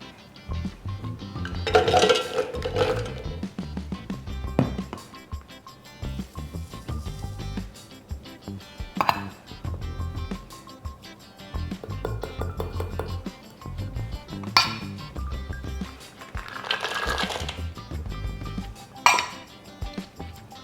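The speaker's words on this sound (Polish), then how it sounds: "A więc teraz wszystko wrzucamy do termomixa." Ingredients including cocoa, banana and acerola are tipped into a Thermomix bowl for healthy energy balls, with scattered clinks and clatters of dishes and utensils amid quieter handling, no talk.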